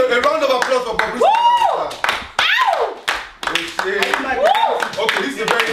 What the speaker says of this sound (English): Give a round of applause for Bobrisky.